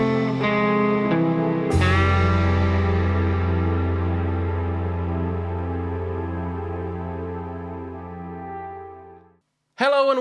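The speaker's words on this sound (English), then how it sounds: "a legendary Japanese overdrive and a legendary Japanese distortion pedal, all in one pedal" An electric guitar rings out through a Japanese-style overdrive and distortion pedal (MXR Raijin Drive), a sustained distorted chord that slowly decays, followed by a brief new strum at the end.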